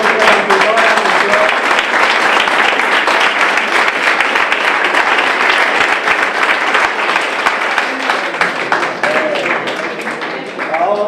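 Dense, steady applause from an audience at an Enxenería Sen Fronteiras gathering, loud and continuous from start to finish, with brief voices in the crowd.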